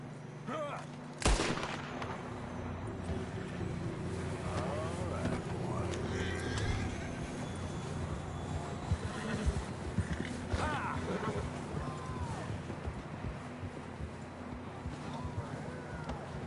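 Horses in Red Dead Redemption 2, with hoofbeats and whinnies over a dense, continuous game ambience, a single sharp gunshot crack early on, and voices faintly in the mix.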